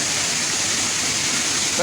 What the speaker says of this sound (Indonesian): ini dia guys air terjunnya